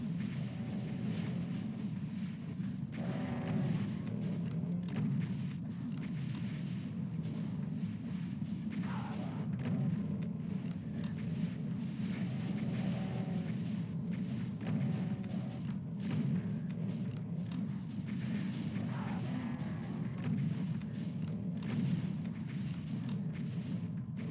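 Cyberdemons battling across a Doom map, a continuous low rumbling din of distant explosions and heavy thuds, with repeated dull impacts layered over a steady roar.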